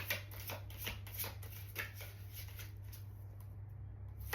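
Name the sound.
shuffling round cards of an oracle card deck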